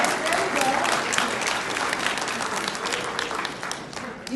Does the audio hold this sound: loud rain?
no